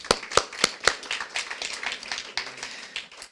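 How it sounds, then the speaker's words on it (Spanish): Audience in a lecture hall clapping for a journalist moderator, beginning with a few sharp, separate claps and then spreading into a fuller, moderate burst of applause that fades out. "Un aplauso para él."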